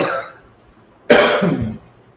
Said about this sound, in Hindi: खांसी बहुत हो रही है यार